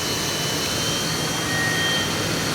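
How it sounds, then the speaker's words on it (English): Auragen generator running inside a truck, a steady loud broadband whine and rush holding constant throughout, close, with no talking. "But it could be the noise of the generator itself."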